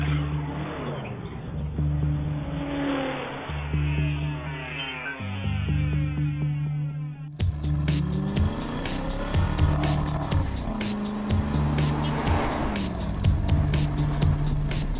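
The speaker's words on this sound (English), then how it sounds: "Let's drive the 2012 Aston Martin Vantage Roadster" A 2012 Aston Martin Vantage Roadster, a small handmade sports car, drives with a steady engine drone and shifting revs, rising and falling under road noise throughout, with no talking.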